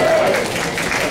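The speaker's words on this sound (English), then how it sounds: "It's the first time I've gotten applause" Brief applause from an audience at a Ward 2 alderman debate in Grimsby, a steady wash of clapping heard close, with a faint voice or tone briefly near the start.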